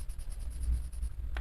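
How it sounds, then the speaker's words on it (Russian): Coloured pencil rubbing over the page of a colouring book with soft, steady scratchy strokes, close and quiet, with no talking. "Ну и, конечно, сейчас с вами вместе пораскрашиваю."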